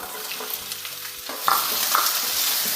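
Sliced small shallots and garlic sautéing in oil for a fish curry, a close sizzle that swells louder as more go into the pan, with a few soft stirring knocks, no talking.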